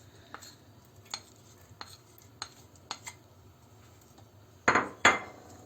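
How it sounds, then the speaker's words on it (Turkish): Green peppers cooking in a pan for menemen, with scattered light clicks of a utensil against the pan and then two louder scraping stirs near the end, over a faint background. "Şimdi biberlerimizi biraz böyle pişirelim."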